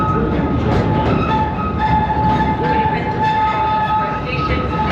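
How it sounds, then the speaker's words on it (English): A Disneyland Railroad train rolls to a halt at a station, its steady rumble and rail noise carrying a thin sustained squeal, loud and continuous throughout, with faint voices in the background. "please remain seated until the train comes to a complete stop"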